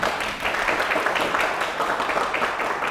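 An audience at a televised mayoral candidate forum in Pocheon gives a dense, continuous round of applause that stays even and fairly full for about three seconds.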